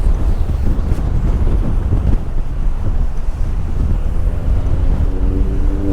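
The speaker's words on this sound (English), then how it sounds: "because it's really strong, that wind" Strong wind buffets the microphone on the River Humber shore during sea fishing on the East Coast, a loud, continuous low roar with steady gusting and no pauses.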